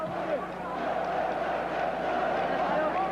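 A Chinese cheering squad roars at a 1990 Asian Games basketball game between the Philippines and China, a steady crowd cheer filling the arena for the whole stretch with no letup.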